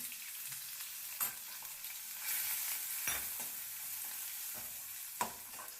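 Onion frying with mustard seeds and cumin in hot oil for a Karnataka-style soaked chickpea palya, a steady close sizzle broken by a few sharp stirring scrapes, no voices.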